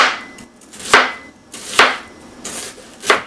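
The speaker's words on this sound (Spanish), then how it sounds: "voy a cortar las verduras y empiezo con la cebolla" A knife chops vegetables, starting with an onion, on a board in a kitchen, giving four sharp, evenly spaced cuts close by with quiet pauses between them.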